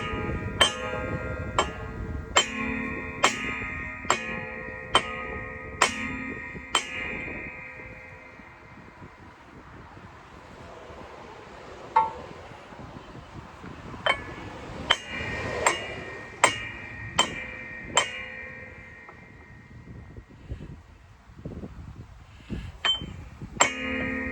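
A big brass drift hammered against a bevel gear on a Birdsall sawmill, sharp ringing metallic strikes in bursts with resonant tails, a quieter gap in the middle, then more blows, close and loud.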